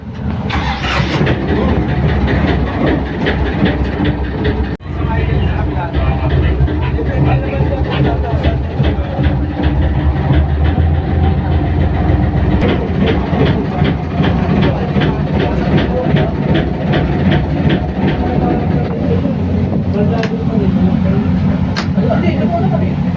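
Lifeboat engine running on a ship during an onboard drill test, a steady loud mechanical drone with rhythmic ticking that continues throughout, with voices talking over it.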